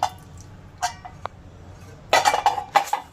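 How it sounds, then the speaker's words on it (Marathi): A cooled pressure cooker of traditional Bhogi mixed vegetable curry is opened in a home kitchen, giving scattered metallic clinks and clatters of pots and lid. A sharp clink comes early, then a louder cluster of jangling hits near the end. "आपला कुकर थंड झाला तर आपण उघडून बघूया"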